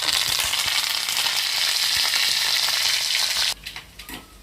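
Garlic, mustard seeds, cumin and chillies tempering in hot oil give a loud, dense crackling sizzle that runs steadily, then cuts off sharply near the end, leaving a few soft clatters.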